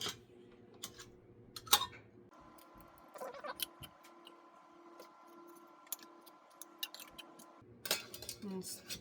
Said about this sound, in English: I'm going to put my clean lids on.